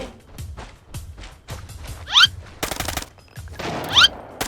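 Gunfire in the tactical shooter Arena Breakout: a run of evenly spaced shots, about two per second, with a few louder cracks and a brief dense burst, close and punchy.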